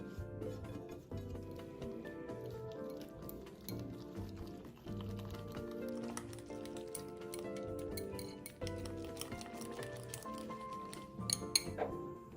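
Bitter gourd being stirred into beaten eggs in a bowl, giving steady clinking and tapping of a utensil against the bowl, close and continuous with a few sharper chinks near the end.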